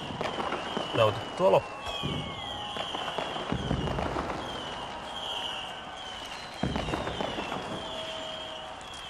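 Millennium New Year 2000 fireworks over Helsinki: scattered bangs and crackling bursts with whistling streaks and a crowd murmuring, heard at a distance while someone talks over them.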